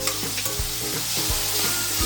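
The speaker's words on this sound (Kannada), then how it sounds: "ಮೊದಲಿಗೆ ಕರ್ಚಿಕಾಯಿನ 5 ರಿಂದ 10 ನಿಮಿಷ ಹುರ್ಕೋಬೇಕು" Spiny gourd (kaarchikai) fries in a pan, a loud continuous sizzle with a few soft stirring scrapes, close up and with no voices.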